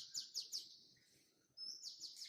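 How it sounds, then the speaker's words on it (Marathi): Small birds chirp in the background of a kitchen, quick high tweets in short bursts of three, then a pause and another run, faint and distant. "पक्ष्यांचा मस्त किलबिलाट चालू आहे बॅकग्राऊंडला."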